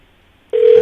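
A telephone ring tone starts abruptly and loudly as a radio show calls a contestant, a steady electronic tone after half a second of near silence.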